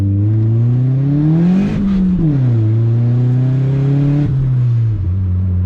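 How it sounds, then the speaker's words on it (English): Turbocharged D16Y7 Honda Civic held at full throttle in first gear, a loud, steady engine drone climbing in pitch, dropping briefly at a shift-like dip near two seconds, then rising again, close and continuous with no talk. "That was the most throttle I've given it. I had floored it and stayed in it."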